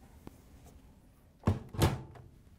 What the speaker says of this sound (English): we can close the washer door.